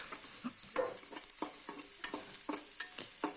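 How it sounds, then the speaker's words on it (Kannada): Onions fry in a pan with a constant high sizzle, broken by a series of soft scraping stirs at irregular intervals, heard close and alone. "ಈ ಕಡೆಗೆ ಈರುಳ್ಳಿ ಕೂಡ ಫ್ರೈ ಮಾಡ್ಕೊತಾ ಇದ್ದೀನಿ"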